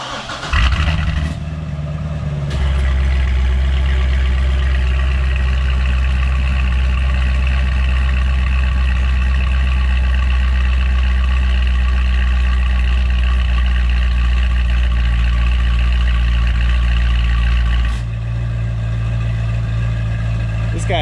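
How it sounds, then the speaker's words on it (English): A Corvette Z06 engine cold-starts with a sharp burst, then settles into a loud, steady, rumbling idle that holds close and constant for about fifteen seconds before the pitch drops slightly near the end. "we got to do a cold start and pull it out"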